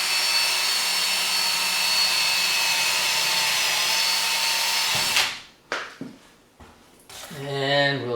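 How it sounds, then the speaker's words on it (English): A power drill whines steadily and loudly for several seconds drilling into a broom handle, then stops abruptly, followed by brief clicks and a voice speaking. "hopefully the drill will follow the mark"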